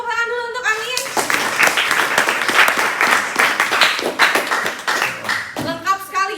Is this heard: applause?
yes